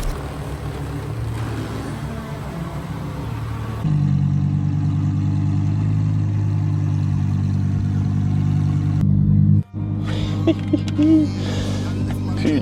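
A car engine runs close by, then revs up to a louder, steady, higher-pitched drone that holds for several seconds before cutting briefly, with a voice heard over it afterward.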